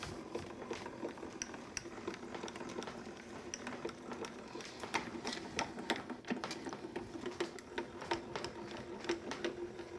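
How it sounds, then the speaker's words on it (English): A Grand Calibur die-cutting machine is cranked by hand to press a detailed die through cutting plates, heard as a faint, close, uneven mechanical clicking and ratcheting that continues for several seconds. "And we'll run it through our grand caliper."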